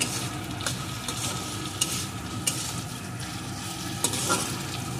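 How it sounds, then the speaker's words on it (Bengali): Pointed gourd frying with poppy seeds, a soft continuous sizzle in the pan broken by a few sharp scrapes and taps of a spatula as it is stirred, close and fairly quiet, without speech. "পোস্তটা দিয়েও আর একটু নাড়িয়ে নেব।"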